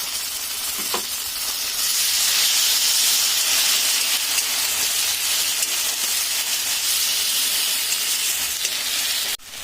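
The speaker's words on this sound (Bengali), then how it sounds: "পেঁয়াজটা ভাজা হয়ে গেছে, দিয়ে দিচ্ছি এর মধ্যে মশলা" A ginger, cumin, garlic, dried chilli and tomato paste sizzles loudly in a pan with fried onions for an egg curry, a dense, steady hiss that lasts throughout, with a faint clatter near the start and end.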